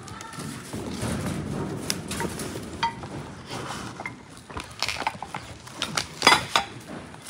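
Ceramic cups and deep plates clinking and knocking as they are handled, sharp scattered clatters growing busier toward the end, with people talking nearby.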